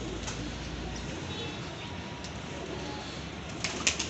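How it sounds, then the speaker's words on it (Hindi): Jeera pigeons coo softly amid a steady background hiss, with a few faint chirps and a small flutter near the end. "नहीं ये बैठा हुआ है जीरा कबूतर"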